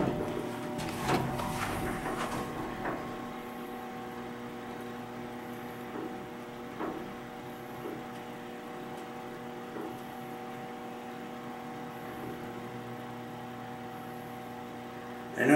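A 40-year-old elevator's door slides shut and the car runs, heard as a few knocks and thuds early on over a steady mechanical hum that continues throughout.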